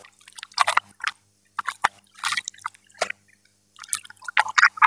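Laundry washed by hand with Tide detergent, giving irregular wet splashes, drips and squelching bursts of water separated by short quiet gaps, close and fairly loud.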